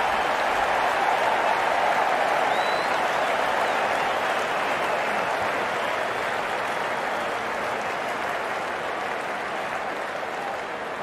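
Cricket crowd applauding a well-played shot during a T20 match, a broad, continuous roar of clapping and crowd noise that stays loud and steady, fading slightly toward the end.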